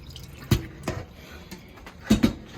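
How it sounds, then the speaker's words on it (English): Cold tap water rinses raw chicken in a kitchen sink for chicken noodle soup, heard as a few separate splashes and drips over a quiet background. "I rinse it with cold water."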